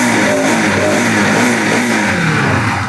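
A 2021 Bajaj Pulsar NS200 motorcycle with 23,000 km on it runs close by, its engine giving a steady mid-pitched drone with faint rising and falling rev tones, loud and alone with no talk.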